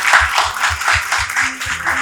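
An audience at a church women's retreat claps in a rhythmic, even beat, each clap landing in a regular pulse, with a voice speaking over the applause.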